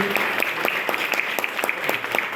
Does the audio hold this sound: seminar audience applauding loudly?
yes